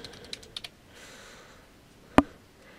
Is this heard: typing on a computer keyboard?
yes